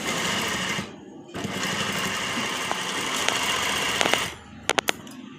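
Sewing machine stitching fabric for a neck design, a loud continuous close whirring hum that pauses briefly, runs again, then stops with a few sharp clicks at the end.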